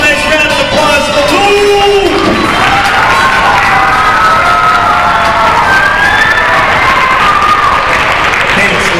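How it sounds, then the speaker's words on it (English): A school crowd at an Earth Day assembly breaks into loud, sustained applause mixed with cheering, children's shouts and whoops, dense and close throughout. "How about a nice round of applause for"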